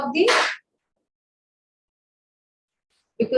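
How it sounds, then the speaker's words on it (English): A single sharp sneeze bursts out at the start, followed by a long silence before a voice begins speaking at the end. "I will just keep sneezing in the rest of the session"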